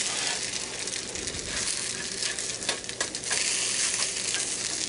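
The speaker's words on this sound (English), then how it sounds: "Go ahead and flip all these over." Salmon patties frying in a cast iron pan, a steady loud sizzle with crackling pops and a few scraping clicks as the patties are turned over.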